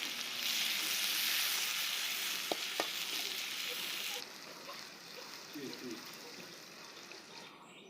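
Onions frying in oil in a kadai, a steady broadband sizzle that is strong at first and then drops to a quieter, softer fry, with a couple of brief clinks.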